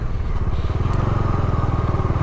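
Bajaj motorcycle pulling away, its engine thumping in a steady rapid pulse close to the microphone, loud and continuous with no talk over it.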